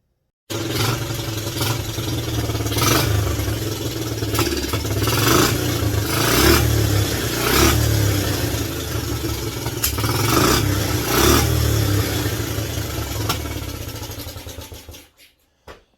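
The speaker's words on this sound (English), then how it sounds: "Revving up pretty good, I will say." A Suzuki LT125 ATV's small engine runs steadily and revs up repeatedly in rhythmic surges, loud and close, with a rattling clatter throughout before cutting off at the end.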